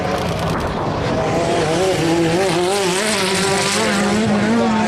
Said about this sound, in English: Here comes James Houghton down the front straight.